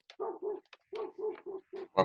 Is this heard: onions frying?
no